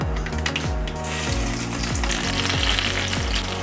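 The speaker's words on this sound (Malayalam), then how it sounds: "അപ്പോൾ കടുക് പൊട്ടിയിട്ടുണ്ട്." Mustard seeds and dried red chillies sizzle and crackle in hot oil as a tempering for a Kerala-style temple tamarind curry: a close, steady, dense frying hiss with a faint tonal hum underneath.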